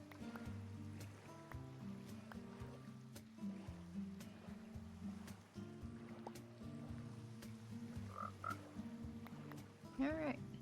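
A frog in Minecraft croaks a few times near the end, short bubbly calls rising over steady water and boat sloshing from the game.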